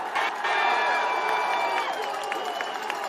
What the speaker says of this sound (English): Let's give a big round of applause for these young men out there